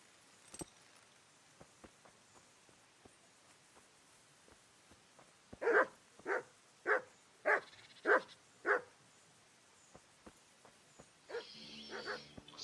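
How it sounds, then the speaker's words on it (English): Dogs bark in the medieval video game Kingdom Come: Deliverance, starting with a run of six loud, evenly spaced barks in the middle, preceded by faint scattered ticks and followed by a brief burst of other game noise. "That's all they do is fucking bark."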